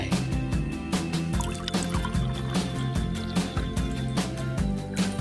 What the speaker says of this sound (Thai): ก็เทน้ำลงไปเหมือนกันนะครับ ให้ท่วม ถุงทำความร้อนนะครับ แล้วก็เทลงไป